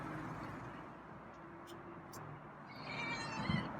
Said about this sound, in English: Wow, got a meow.